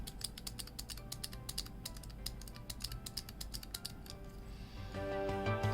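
Cherry Blue and Gateron Blue clicky key switches fitted in a hitbox arcade controller are pressed in quick, uneven bursts of sharp clicks for about four seconds, close and fairly loud, before the tapping stops.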